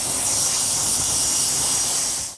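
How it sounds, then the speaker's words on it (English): A continuous loud hiss of spray wax from an aerosol can aimed at car wheels, steady and close for about two seconds before cutting off abruptly. "Shake well, spray on, wipe dry."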